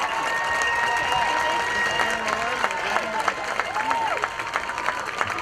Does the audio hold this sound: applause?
yes